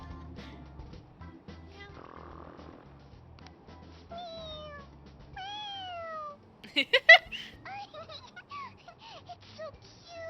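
Cat meows and snorting sounds from the video game Persona 5 Royal, several rising and falling mewing calls and a short burst of loud noises, with a brief spoken word.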